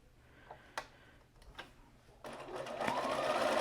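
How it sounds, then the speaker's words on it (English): A sewing machine runs a quick straight stitch along fabric for quarter-inch seams: a few soft ticks first, then a steady rising whir of the needle running close and alone. "I'm just going to run a real quick stitch right along there."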